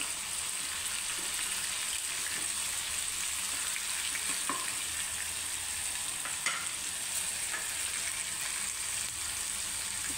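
Mustard seeds and spices dry-roasting in a pan give a steady faint sizzle and crackle, with occasional light pops and stirring scrapes, no voices.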